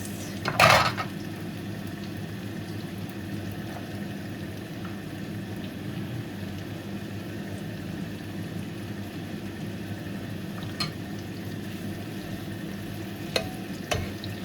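Onions fry in a pan with a soft, steady sizzle, broken by a loud scrape of a utensil stirring near the start and a few faint clinks of the spoon against the pan later on.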